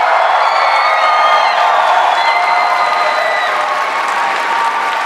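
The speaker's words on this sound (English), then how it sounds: "huge round of applause." Convention audience at a stage event applauding and cheering, a dense, loud, sustained wash of clapping with whoops and shouts running throughout.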